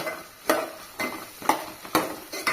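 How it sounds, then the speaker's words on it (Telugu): Ginger garlic paste fries in hot oil for a cucumber curry, stirred with a spoon in steady scraping strokes about every half second over a constant close sizzle. "అల్లం వెల్లుల్లి పేస్ట్ అప్పటికప్పుడు దంచి పెట్టుకున్నా కదా అది వేస్తున్నా ఇప్పుడైతే కలుపుదాం"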